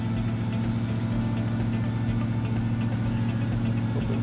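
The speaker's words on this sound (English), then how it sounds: "with my foot on the brake, I should be able to put the throttle all the way to the floor, and we should just be holding" A 2008-2014 Duramax 6.6L diesel engine is held at full throttle against the brake, a steady, loud, low droning hum that stays constant throughout.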